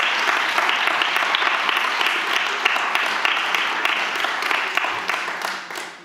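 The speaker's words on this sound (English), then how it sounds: "Let's make a big clap hands for this." A conference audience at a women's annual meeting breaks into loud, sustained applause, many hands clapping densely and evenly for several seconds before it begins to taper off.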